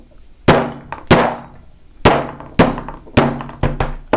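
A hammer striking a metal disc cutter to punch a half-inch disc from metal sheet: seven or eight loud, close, ringing clangs at irregular intervals, each decaying quickly.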